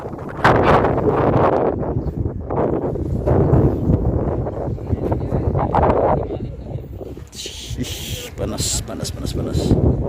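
Strong swirling wind gusting across the open grounds of Prambanan temple in Yogyakarta, roaring continuously into the microphone with rustling, while people talk underneath.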